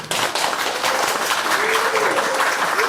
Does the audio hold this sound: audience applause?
yes